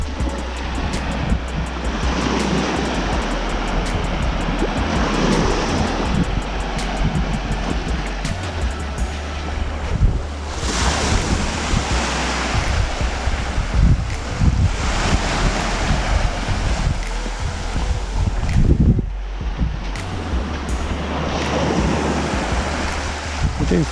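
Waves breaking on a Cornish beach at St Anthony Head and Porth Farm, a steady loud wash of surf with strong wind buffeting the microphone throughout, no talking.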